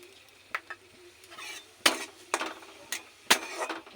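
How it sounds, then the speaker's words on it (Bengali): Panch phoron and dried red chillies hitting hot oil in a wok, heard as a few sharp crackling bursts and spits among softer clinks and spoon scrapes, close but fairly quiet, with no talking. "আমি এখন এই যে পাঁচফোড়ন ঢেলে দিব, শুকনো লঙ্কা আর পাঁচফোড়ন।"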